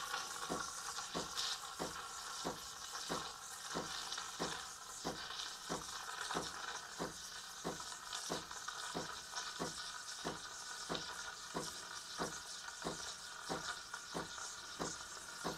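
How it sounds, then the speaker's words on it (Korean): An espresso machine steam wand steaming milk gives a soft, steady hiss broken by regular rhythmic chirping pulses, quiet and alone without talk. "확실히 칙칙 소리가 아까보다 많이 나죠?"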